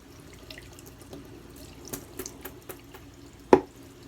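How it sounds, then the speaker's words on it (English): A shaving brush is rinsed under a running tap, a low steady trickle of water with soft splashes and one sharper knock near the end, close by and with no talking. "Rinse the brush off."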